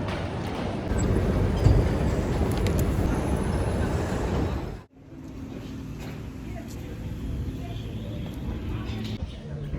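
A train pulls into Marrakech station. A steady loud rumble from inside the carriage cuts off sharply halfway through, and a quieter hum continues afterward.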